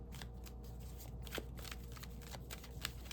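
Tarot cards are shuffled by hand close to the microphone in a quiet room, a series of quick riffling, flicking bursts with no speech over them.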